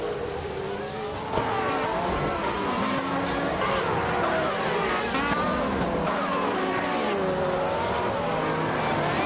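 Video game racing cars, led by a 1995 Jordan 195, roar continuously at close range with high whining engine tones, shifting pitch and overlapping cars, with no talk.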